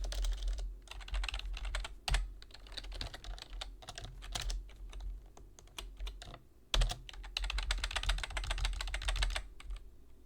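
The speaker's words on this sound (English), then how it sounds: "Let's just type." Steady stretch of fast typing on a computer keyboard while Python commands are entered, the key clicks close and continuous with a brief pause midway.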